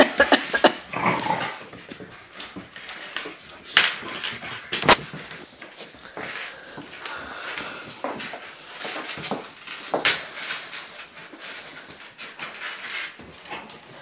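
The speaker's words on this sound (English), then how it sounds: "I don't know what to do with all these puppies" Young puppies around eight and a half weeks old make thin whimpers and panting close by, mixed with rustling and scattered knocks in a busy indoor space.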